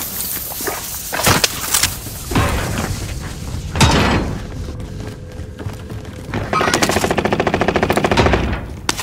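Rapid automatic gunfire and sharp sniper shots ring out in a Call of Duty Warzone match on Rebirth Island, loud bursts scattered across the moment and ending in a sustained rattling volley.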